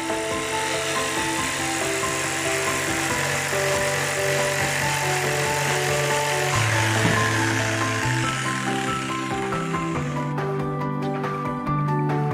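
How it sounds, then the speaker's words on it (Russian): A power tool cuts wood panels for a homemade dual-speaker JVC CS-W120 subwoofer box, running loud and steady for the whole stretch with a shifting motor pitch and no talking. "Продолжим дальше резать."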